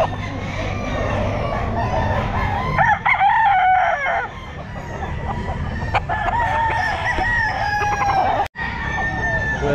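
Gamefowl stag rooster at a pet market, crowing loudly and close in a couple of drawn-out calls with clucking and market chatter around it, the recording briefly dropping out near the end.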